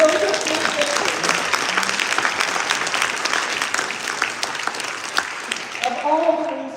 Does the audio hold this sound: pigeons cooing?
no